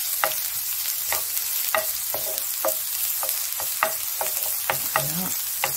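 Garlic and shallots frying in a pan for shrimp fried rice, a steady close sizzle broken by repeated sharp scrapes and stirs.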